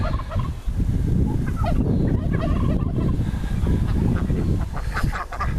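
Loud, dense honking and quacking from a flock of fowl fills the whole stretch, continuous and close, with no talking.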